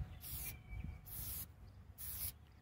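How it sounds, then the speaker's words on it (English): Spray shellac hisses out of a can in three quick squirts onto coasters, each short burst separated by a brief pause, close and fairly loud. "with the shellac, all you just have to do is you spray it, but you do quick little squirts"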